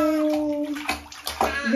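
Water runs and sloshes into a child's bath, steady gurgling pouring with splashes, while a voice chatters faintly underneath.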